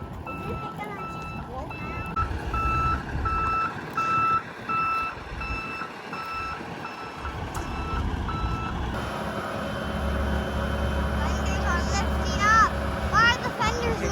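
A tractor pushes a pig near Little Current, Ontario, its reversing alarm beeping in a steady repeating pattern over a low, continuous engine rumble, with people talking nearby.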